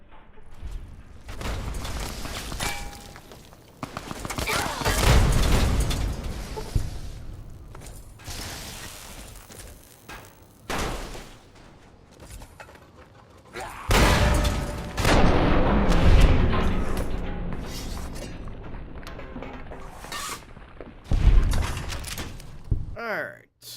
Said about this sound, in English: Let's cripple a leg with a rocket launcher.